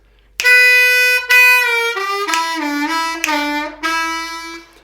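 A blues harmonica plays the 4 chord portion of a song, close and loud, with a held draw note followed by quick bending triplet notes that slide downward, then a final phrase.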